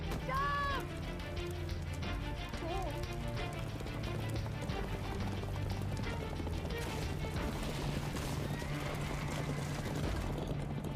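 Horse galloping and neighing in the handheld game Assassin's Creed III: Liberation, with a high whinny near the start over a steady drumming run, mixed with busy game sounds and music throughout.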